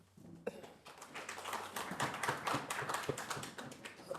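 An audience at a rabbis' panel discussion at Yeshivat Orayta claps, starting abruptly and quickly building to steady, dense applause held at a fairly loud, even level.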